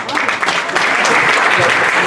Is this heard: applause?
yes